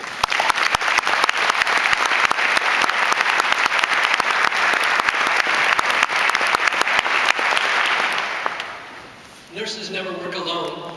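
An audience at a Linfield College graduation ceremony applauds to welcome a speaker, dense sustained clapping from a large crowd that fades near the end before a voice begins speaking.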